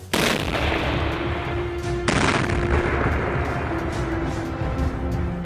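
A loud blast opens a continuous roar of rumbling detonations in a minefield amid fire, with a second sharp boom midway, the heavy crackling din carrying on without a break.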